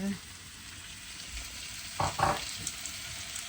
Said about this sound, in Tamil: இன்னும் தக்காளி பழமும் வதங்கட்டும்